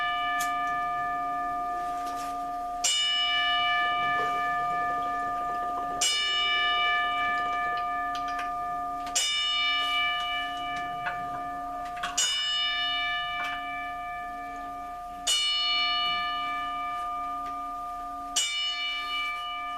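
Bells ring in a steady series of struck tones about every three seconds, each strike blooming into a long, shimmering decay that overlaps the next, with no talking.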